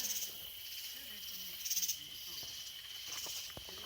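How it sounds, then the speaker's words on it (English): Tree frogs call at night in a steady, high, rapid trilling chorus that pulses in repeated bursts against a dense outdoor background, without talking. "No, those are tree frogs."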